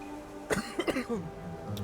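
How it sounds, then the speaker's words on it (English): A few short, throaty coughs in a quick cluster, fairly quiet, over a low steady background hum. "Don't mind my coughing."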